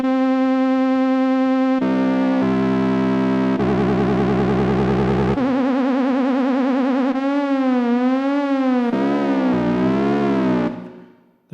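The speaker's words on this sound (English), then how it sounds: "so that's just a regular vibrato." A synthesizer tone wavers in pitch with a slow, wide vibrato, its timbre shifting between sections, loud and steady before fading out at the end.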